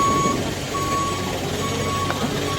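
Steady electronic reversing beeps from a six-to-seven-ton truck backing up to unload at a cow shelter, repeating at an even pace over a low engine rumble.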